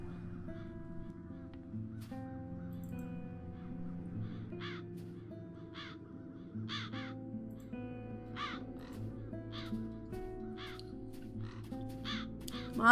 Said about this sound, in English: Come on, Garon, let's get rid of these crows